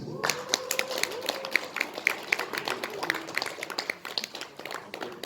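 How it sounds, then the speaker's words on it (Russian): An audience claps at a small awards ceremony for women entrepreneurs, giving a light, scattered patter of hands that stays moderately quiet, with a voice speaking over it. "Я чувствую по аплодисментам, что вы одна из самых популярных кандидатов."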